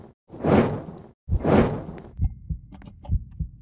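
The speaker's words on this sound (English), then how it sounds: "So you've got your heartbeat sound effect" In an indie game at low health, a heartbeat effect plays as two slow, deep swelling pulses, followed by a run of softer, quicker thumps.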